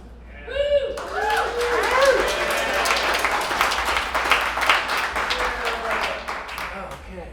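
Crowd clapping at a stand-up comedy show in a brewery, a brief voice at the start followed by steady, moderately loud applause with a few whoops that tapers off near the end.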